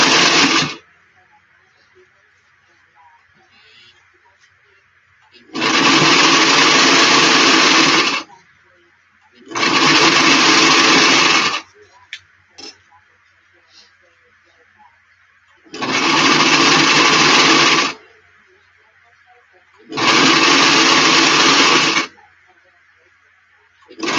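A sewing machine stitches a flat cap in five loud bursts of steady whirring, each lasting about two seconds, with quiet pauses and small clicks between runs.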